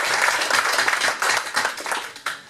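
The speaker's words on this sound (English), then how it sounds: "So let's give them another round of applause." Brief applause at a Lake Worth city commission meeting, a modest group clapping in uneven bursts for under three seconds with no voices over it.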